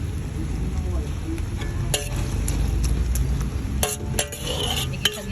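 Meat being sautéed in tomato sauce in a pan, a steady close sizzle with scraping stirs and occasional clinks of a utensil against the pot.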